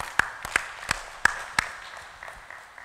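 Rhythmic group clapping from a church congregation gives a handful of crisp, slightly uneven claps that thin out and fade over a quiet room background.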